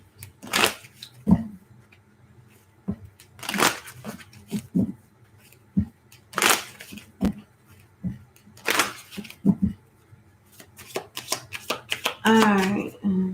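Tarot cards being shuffled, with repeated sharp riffling bursts in uneven bunches, close and fairly loud, with talking in between.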